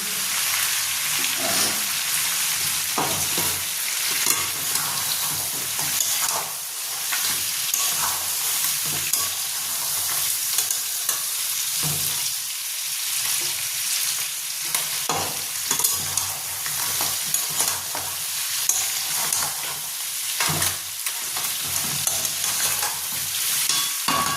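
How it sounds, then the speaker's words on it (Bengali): Thick-sliced onions frying with crab in a pan, a loud continuous sizzle with occasional stirring scrapes and clinks, close and steady throughout. "পেঁয়াজটা কাঁকড়ার সঙ্গে ব্রাউন করে ভাজা হয়ে গেছে"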